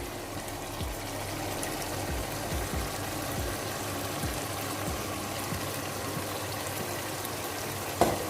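Onion masala and spices for a chicken gravy frying in a pan: a steady, moderate sizzle and crackle that continues throughout, with a small clink near the end.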